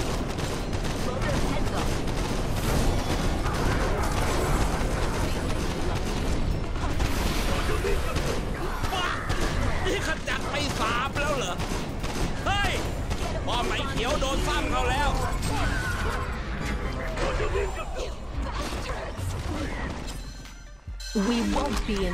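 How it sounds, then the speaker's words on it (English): Video game gunfire from a Master of Arms match, rapid volleys and crashing hits running dense and loud throughout, with voices talking over the battle. "I'll shoot you all the same"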